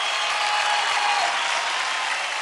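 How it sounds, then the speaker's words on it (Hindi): Steady, dense applause from a crowd, a continuous wash of clapping that holds at an even level for the whole stretch. "जोरदार तालियां हो जाए"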